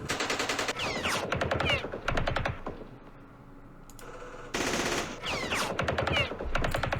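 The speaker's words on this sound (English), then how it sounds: "Let's fire at the mortars." Machine gun fire in the Vietnam War game Campaign Series Vietnam, set in the Battle of Hue: rapid rattling bursts, a quieter lull with a faint hum, then more loud automatic volleys.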